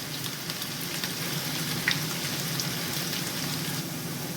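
Chopped onions sizzle in hot oil with cumin as they are fried until lightly browned, giving a steady, close crackling hiss with no talk.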